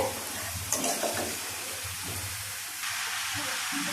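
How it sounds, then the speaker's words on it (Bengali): Cumin and garlic sizzle in hot oil while a utensil stirs, a steady crackling fry with a few brief clinks, close and moderately loud with no voices. "আমি জিরা, রসুন দিলাম, আমি দিয়ে দিলাম এটা তেলের উপরে।"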